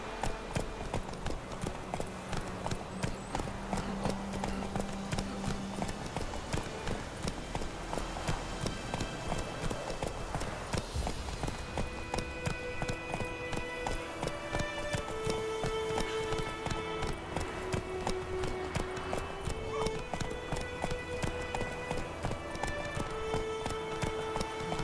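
Geralt's horse Roach in The Witcher, with steady rhythmic hoofbeats over a long stretch under background music, moderately loud and close.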